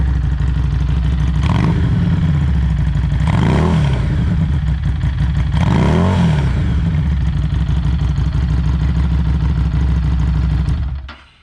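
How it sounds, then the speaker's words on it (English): A repaired motorcycle engine idling steadily at normal RPM, a loud, close mechanical chug with two brief swells in revs before it cuts off at the end. "That's our normal idle. RPMs are normal."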